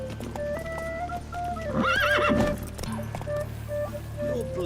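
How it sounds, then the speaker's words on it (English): Horse galloping in The Witcher 3 video game, a steady rapid clip-clop of hooves with a whinny in the middle, mixed under game music and ambient sound. "Run, Roach"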